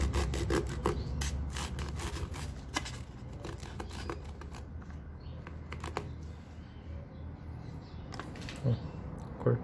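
A knife slices through a small purple passion fruit with dry scraping and rubbing strokes, close up, alongside scattered light ticks and handling sounds, with no talking.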